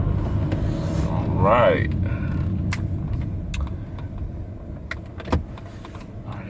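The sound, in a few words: car driving around in an alley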